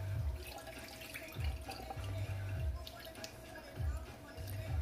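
Goat meat is rinsed under running water in a kitchen sink, a faint stream of tap water with soft splashes and intermittent low squishes as the pieces are handled, while someone talks quietly.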